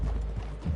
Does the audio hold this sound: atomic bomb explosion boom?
no